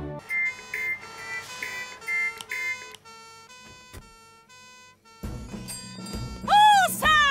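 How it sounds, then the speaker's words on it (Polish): Cartoon alarm siren played from an MP3 player in a Fireman Sam episode, with beeping tones and then a loud rising and falling wail near the end. "Teraz z tego MP3 leci dźwięk syreny alarmowej"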